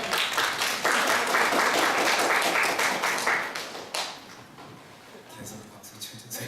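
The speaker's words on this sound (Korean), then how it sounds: "계속 박수 쳐주세요." A church congregation at a Korean ordination service claps together, loud and dense at first, then thinning out and fading into scattered claps and a low murmur of voices.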